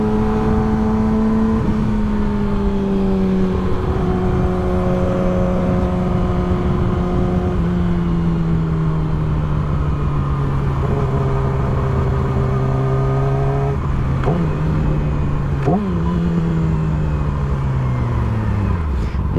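A car engine revs steadily, its pitch rising and falling through several gear-like sweeps, loud and close, with a couple of sharp knocks near the end.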